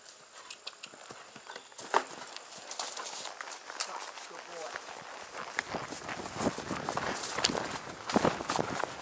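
A horse's hooves clip-clop steadily at a walk during a fall hunter pace ride in Goshen, close and repeated over outdoor ambience, with people talking at times.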